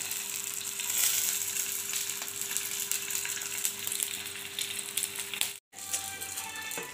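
Stuffed chilies for mirchi bajji fry in oil with a dense, continuous crackling sizzle that holds steady, broken only by a brief drop near the end before the bubbling resumes.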